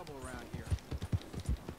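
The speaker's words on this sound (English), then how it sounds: "Okay, I'm gonna get on my horse." Horse in Red Dead Redemption 2 clip-clops away at an even trot, about eight hoof beats, close and distinct, with a brief tonal sound at the start.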